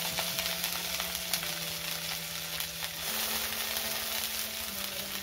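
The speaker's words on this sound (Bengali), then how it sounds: "এবারে আমি দেখো আলু আর বাঁধাকপিগুলো দিয়ে দিচ্ছি।" Potatoes and cabbage drop into hot oil in a nonstick pan, giving a steady, close sizzle and frying hiss throughout with a faint stirring rustle and no talk.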